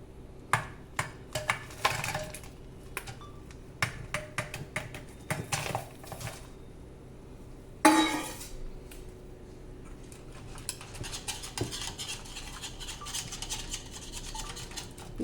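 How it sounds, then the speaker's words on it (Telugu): Melting jaggery is stirred into a mixture for a traditional instant junnu milk sweet, heard as close scraping and clinking of a spoon against a pot in irregular bursts, with one louder knock partway through and no talking. "నేను మొత్తం కరిగేదాకా అయితే నేను వేసుకొని అయితే మిక్స్ చేసుకుంటానండి"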